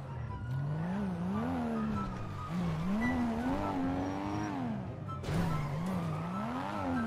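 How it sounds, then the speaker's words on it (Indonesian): A sports car, apparently a Nissan R34 Skyline, races at high speed during a police pursuit in GTA V, its engine revving and shifting pitch continuously with loud, close tire squeals and skids, and no talk over it. "Gila ini mobil terlalu kencang."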